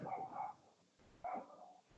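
A dog barks in two loud bursts close by, with a short pause between, set against the chatter of an indoor podcast recording.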